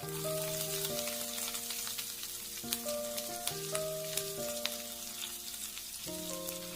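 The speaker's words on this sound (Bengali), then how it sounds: "পেঁয়াজটাকে আমি ধীরে আঁচে ফ্রাই করব।" Chopped onion fries on a low flame with a soft, steady crackling sizzle and scattered pops, heard beneath louder melodic background music, with no speech.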